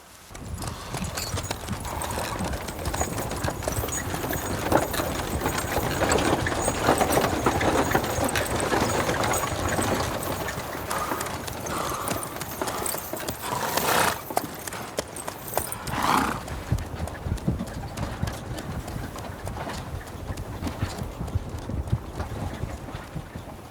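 Horse hooves clip-clop steadily in the video game The Witcher 3, loud and close, running continuously over wind and a low rumble, with a brief whinny-like sound near the end.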